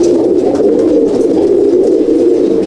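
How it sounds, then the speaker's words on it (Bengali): Andhra and Madrasi pigeons coo inside a pigeon loft in Halisahar. A dense, continuous chorus of low throaty cooing from many birds stays close and loud throughout, with no other sounds. "দেখে নাও আমার কাছে কত পায়রা আছে"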